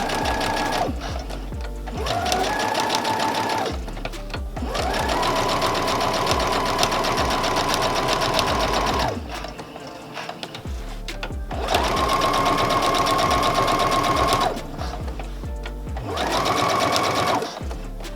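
A sewing machine with a regular presser foot stitches a cloth pad in long steady whirring runs, broken by short pauses between seams. It is loud and close, with no talking.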